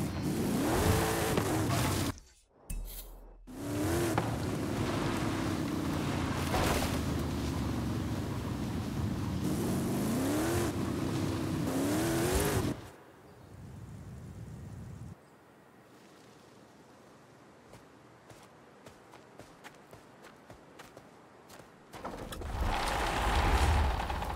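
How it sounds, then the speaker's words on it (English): A 7-liter, 425-horsepower Hemi V8 from a Dodge Dart in Forza Horizon 5 roars loudly and steadily, its pitch climbing and falling through several revs, then cutting out to a quiet stretch of faint ticking before the engine rises again at the end. "That is a 7-liter, 425 brick horsepower Hemi engine, and the scraps of a Dodge Dart"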